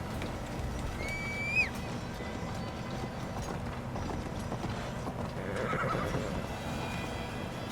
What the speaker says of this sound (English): No, you fucking horse. Stop moving.